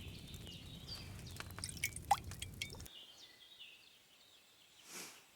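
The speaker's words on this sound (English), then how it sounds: "Get a phial and pour it in." Potion pours into a phial in Kingdom Come: Deliverance 2, a quiet run of liquid drips and trickles that stops abruptly, leaving near silence and a faint soft swell.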